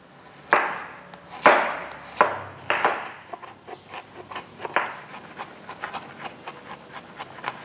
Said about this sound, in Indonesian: Bawang putihnya kita cincang ya.